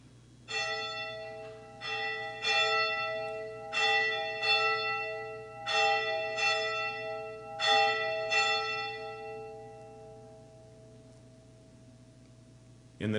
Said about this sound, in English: join me in a moment of silent prayer and the ringing of the bell